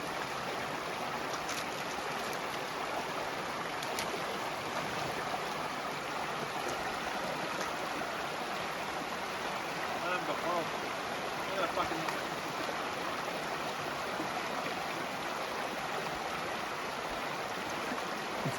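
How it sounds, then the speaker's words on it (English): A flowing creek rushes steadily along a mountain hiking trail as hikers cross, a continuous broadband wash of water close by with no speech heard. "Here we are crossing a creek."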